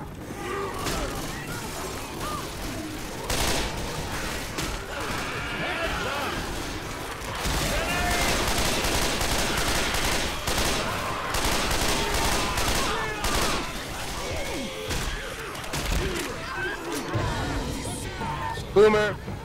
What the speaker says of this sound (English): The hell are you shooting at?